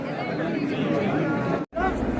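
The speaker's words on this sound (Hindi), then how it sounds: "ये बद्री नारायण का भीड़ देखें" Dense crowd chatter and babble of many voices outside the Badrinath (Badri Vishal) temple, steady and close, with a brief drop-out near the end before the murmur resumes.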